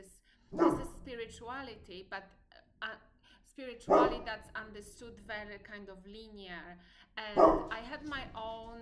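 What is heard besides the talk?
dog barking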